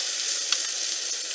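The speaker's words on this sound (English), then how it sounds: "I'm gonna go ahead and get a nice sear on my pork chops" Pork chops sear in a hot pan, a steady bright sizzle of frying grease with one small pop partway through, close and constant with no voices.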